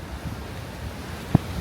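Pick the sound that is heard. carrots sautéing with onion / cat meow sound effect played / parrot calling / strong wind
strong wind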